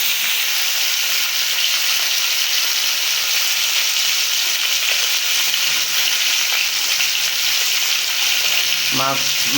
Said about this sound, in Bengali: মাছ মোটামুটি ভাজা প্রায় শেষ পর্যায়ে।